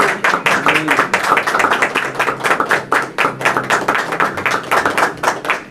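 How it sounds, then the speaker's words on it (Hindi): A church congregation claps steadily and loudly throughout during a sermon, a dense run of hand claps with no talking over them. "जोरदार तालियां खुदा के जिंदा कलाम के लिए।"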